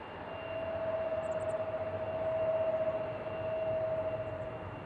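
An airplane departs Seattle airport in the evening, its engine roar swelling and fading in slow waves with a steady whining tone held through the noise, fairly distant and without talk.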